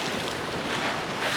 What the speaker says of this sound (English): The wind's definitely picking up.